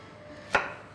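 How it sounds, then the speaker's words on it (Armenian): A single knife chop strikes a board while chicken meat is cut into small pieces, a sharp close thud with a brief ringing tail, alone in a quiet kitchen. "Հավի միսը մենք կտրատում ենք մանր կտորների։"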